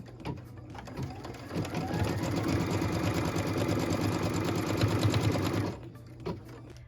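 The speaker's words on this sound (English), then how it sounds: "What we're stitching now is the tack down line for piece number 7." A sewing machine runs steadily for about five seconds, stitching a tack-down line on a Wild Goose Chase quilt piece, with a few faint handling clicks before and after the run.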